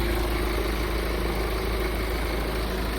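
A Hyundai ix35 2.0 CRDi diesel engine idles with a steady, even low rumble and constant hum, close by and unbroken, with no voices.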